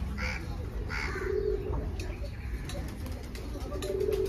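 Pigeons coo softly and repeatedly nearby, with a few other bird calls mixed into a steady outdoor background.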